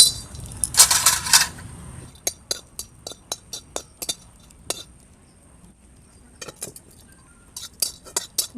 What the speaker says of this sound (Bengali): একটা গোটা দারুচিনি টুকরো করে নিয়েছি আর দুটো এলাচ একটু শুকনো খোলায় ভেজে নেব